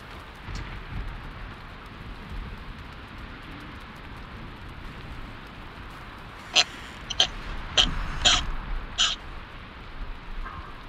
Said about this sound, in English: it's still raining out, Mr. Clear.